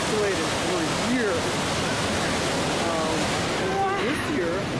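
A waterfall rushes with a loud, steady roar of falling water that fills the whole scene, while faint whistling bird-like chirps rise over the constant wash.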